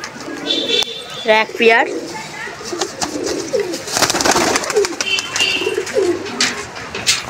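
Pet pigeons in a loft coo in soft repeated bursts, a few calls close by, while someone talks over them.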